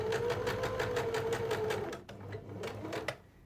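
A sewing machine stitches a slit in a garment sleeve, running at a steady rapid pulse for about two seconds, then slowing to a few separate stitches, close and clear with no talking.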